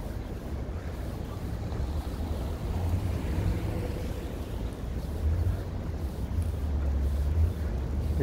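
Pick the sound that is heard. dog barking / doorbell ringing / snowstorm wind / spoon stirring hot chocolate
snowstorm wind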